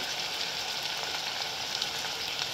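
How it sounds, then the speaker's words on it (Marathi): Oil sizzling loudly and steadily in a pan as food fries with homemade black masala added, a dense close crackle without pause, no voices. "तेलामध्ये फ्राय करून घ्यायचं आहे आपल्याला."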